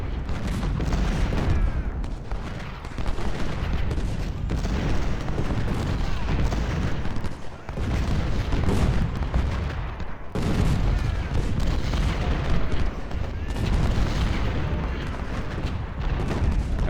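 Artillery fire in the Civil War strategy game 1862 Peninsula Campaign, with heavy cannon booms and rolling gunfire that keep up a loud, steady barrage punctuated by sharper blasts.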